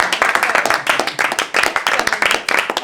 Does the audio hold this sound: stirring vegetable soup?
no